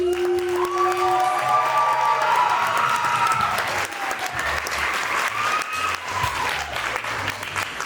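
Loud, sustained applause from a large crowd at a Miss Pacific Islander of San Diego pageant crowning, with scattered whoops and cheers rising over the clapping throughout.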